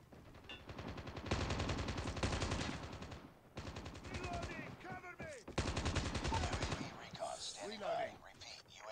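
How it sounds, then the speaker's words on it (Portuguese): Gunfire in Call of Duty Mobile, sustained rapid automatic bursts in three long stretches separated by short gaps, loud and close, with people talking over the shooting. "Estou a ouvir disparos da água,"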